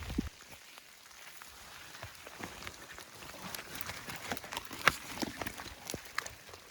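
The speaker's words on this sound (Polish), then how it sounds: "Na dobry początek tego deszczowego dnia." Rain falling in a forest during a walk, with soft irregular patter and scattered footstep-like taps, fairly quiet and growing a little busier over the seconds, no speech.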